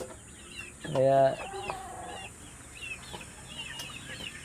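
Chickens cluck and call around a farm pen, one louder burst of squawking clucks standing out briefly among quieter clucks and bird chatter, with people talking nearby.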